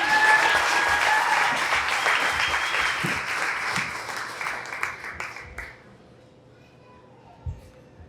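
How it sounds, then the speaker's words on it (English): Crowd applause at a county fair opening ceremony: dense, sustained clapping that thins out after about five seconds into scattered claps and quiet room noise, with a faint voice near the end. "One more round of applause."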